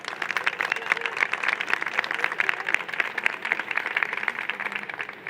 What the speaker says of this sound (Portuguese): Rafael Soares e Vladimir Safatli, a quem eu peço desde já uma salva de palmas.